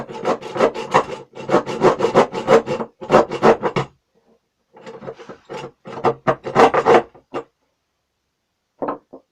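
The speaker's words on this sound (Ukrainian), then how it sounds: "Я покладу, відпиляю на крісло тому що на кріслі набагато легше." Oak wood being hand sawn with a saw to make a chisel handle, the workpiece resting on a chair; steady back-and-forth rasping strokes come in close, loud bursts, with pauses between runs.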